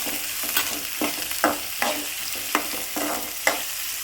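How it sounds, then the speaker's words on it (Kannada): Onion and green chilli frying in a pan, a steady sizzle broken by regular scraping strokes of a spatula about every half second, close and alone with no talk. "ಚೆನ್ನಾಗಿ ಫ್ರೈ ಆಗೋದಕ್ಕೆ ಒಂದು 5 ನಿಮಿಷ ಬಿಟ್ಬಿಡಿ"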